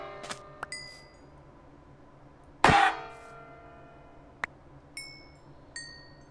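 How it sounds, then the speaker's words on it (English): A frying pan in modded Minecraft striking with a sharp metallic clang that rings out briefly, preceded and followed by small clinks and a few light ringing tones, close and clear without talk. "Oh, the other reason I like frying pans."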